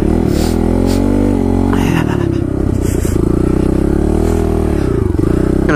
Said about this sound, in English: You gotta wind the bike up so high.